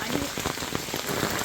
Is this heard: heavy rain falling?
yes